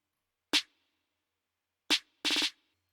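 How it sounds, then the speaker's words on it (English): Two crisp electronic snare hits followed by a quick rapid-fire roll of four or five fast strikes, dry and close. "I layered the clap with a snare, and at the end of every 8 bars, there's this roll."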